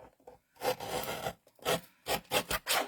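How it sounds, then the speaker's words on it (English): A paper trimmer slices patterned paper in several short rasping strokes: one longer scrape, then a quick cluster of brief cuts, close and fairly quiet. "let's go trim this over"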